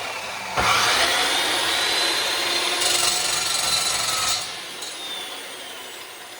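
A metal-cutting power saw grinds through metal with a harsh, rasping whine for several seconds, then winds down to a quieter hum.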